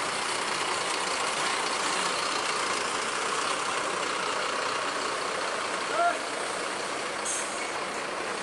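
A large bus engine idles steadily close by, a constant rumbling drone with a brief hiss partway through.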